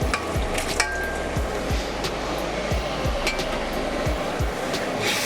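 Tomatoes and green chillies are tipped into a hot frying pan for chana pulao, giving a steady loud sizzle throughout with a few clinks and scrapes of stirring, no talking.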